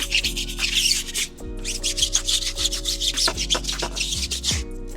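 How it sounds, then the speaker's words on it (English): A brush scrubs hard against a car tire coated in cleaning chemical, giving continuous rough rubbing strokes in a quick back-and-forth rhythm, close and alone, over a steady low machine hum. "So I'm gonna come through and agitate my tire. And we gotta scrub that tire pretty good."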